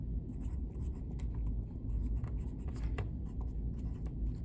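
Pen scratching a number onto paper during a math exercise, a quiet series of short, irregular strokes close by over a low room hum.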